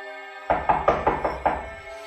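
Six sharp knocks on a door in a quick, slightly uneven run, loud and close with no voices, leaving a faint hum after the last blow.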